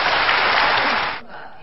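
Brief burst of applause from ruling-party lawmakers in the National Assembly after the president's speech, loud and dense for about a second before cutting off abruptly.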